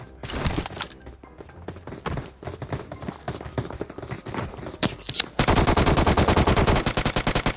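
Rapid gunfire in the mobile battle royale game PUBG Mobile, scattered sharp shots at first, then a loud sustained automatic burst from an MP-style gun in the final seconds, close and punchy.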